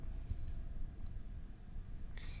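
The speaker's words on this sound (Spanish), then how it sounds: "Hacemos clic en browse o browse" Computer mouse on a Windows 10 PC gives a few faint, quick clicks over a steady low background hum, with no talking.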